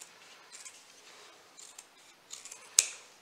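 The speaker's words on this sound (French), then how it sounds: "Si maintenant il y a un petit excédent, vous pouvez le couper, pas trop près" Sewing scissors trim excess fabric near a seam of a sewing-machine mat, giving a few soft snips and one crisp, sharp cut near the end, close and clear in a quiet room.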